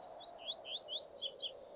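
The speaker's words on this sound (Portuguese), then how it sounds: "ouvir o canto dos pássaros" Several quick, high bird chirps and short rising tweets sound outdoors over a soft, steady background hiss, faint and moderately distant.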